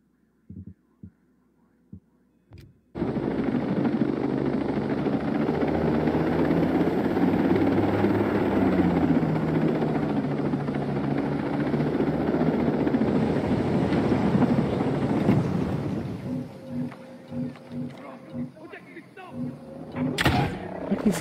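Helicopter flying in a video game: a loud, steady rotor drone and hum cuts in abruptly after a few seconds of near silence, holds for a long stretch, then thins into uneven throbbing pulses near the end.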